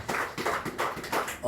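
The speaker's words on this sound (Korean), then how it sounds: "우리 하나님께 영광의 박수를 올리겠습니다" Rhythmic group clapping fills a church service, with steady bursts repeating about three times per second at a moderate level.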